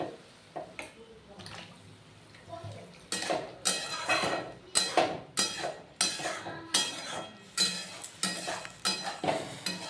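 Figs being stirred in a cooking pot with a splash of water, heard as repeated scraping and knocking strokes against the pot in a fairly regular rhythm, close and moderately loud, with faint sizzling underneath.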